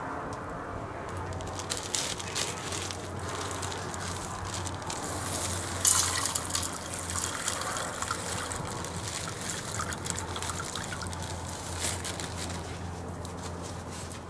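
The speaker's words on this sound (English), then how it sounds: "You can hear my water in there boiling for my soup" Water boiling in a metal canteen cup over an outdoor campfire, a faint, steady bubbling and trickling with soft crackles, quiet and close, with a brief louder rustle partway through.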